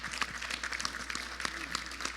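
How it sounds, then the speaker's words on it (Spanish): Scattered, moderately paced applause from a small gathering at a weekly MNE assembly honouring the youth group, distinct individual claps heard at a distance with a low steady hum underneath. "Y un aplauso, por supuesto, para los jóvenes del MNE"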